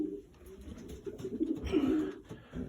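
Pigeons, including young birds, cooing inside a breeding loft, a steady low throaty cooing with overlapping calls and rustling, close and continuous.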